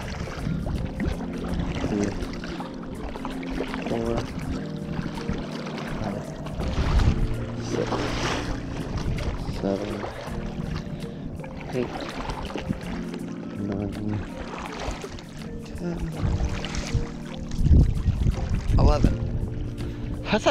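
Side paddle strokes on an 11'6" Gili Meno paddle board out on open water, rhythmic splashes and dripping at close range, with wind and talking mixed in.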